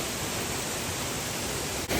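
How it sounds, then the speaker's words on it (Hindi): Steady broadband roar of a secluded Himalayan waterfall near Manali, a continuous close rush of falling water with no let-up, cut off abruptly near the end. "this is known as an सजला waterfall"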